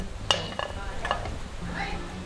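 Oil sizzles steadily in a hot pan for cooking beef, a soft continuous crackle broken by a few sharp clinks of utensils.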